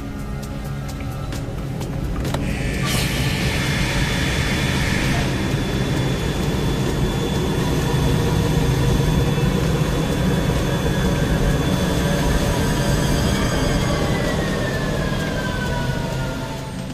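A jet engine runs at reduced power during a water ingestion test, a loud sustained roar with a high steady whine, starting with clicks and building to a constant drone.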